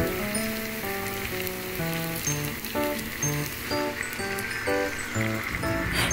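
Garlic and chicken breast with laurel leaves and pepper sautéing in a pan, a steady close sizzle and crackle running throughout while a simple melody plays over it.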